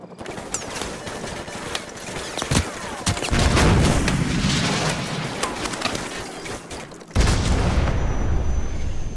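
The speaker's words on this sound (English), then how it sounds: "grab another Stinger and fire again" A Stinger missile fires and explodes in Call of Duty Modern Warfare Remastered, a heavy launch whoosh and booming blast over gunfire and battle noise, with a sudden loud burst near the end.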